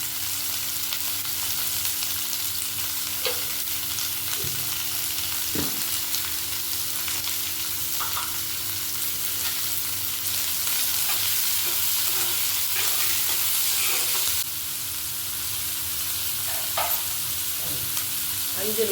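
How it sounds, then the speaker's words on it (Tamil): Onions sautéing in a pan until golden for a South Indian potato curry, giving a steady, continuous sizzle with occasional soft stirring clicks and scrapes, close and even throughout with no talking. "அஞ்சு நிமிஷம் நல்லா வெங்காயம் பொன்னிறமாக வதங்கி விட்டோம்."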